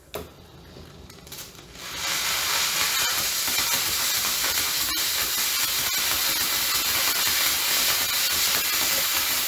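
A US Steam Falcon Plus steam cleaner set to top steam starts up after a quiet second or two and then gives a loud, steady hiss that holds nearly ten seconds, alone and close by.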